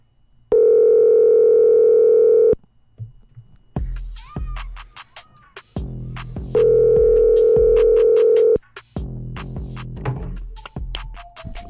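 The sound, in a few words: telephone call ringing, then forwarded to voicemail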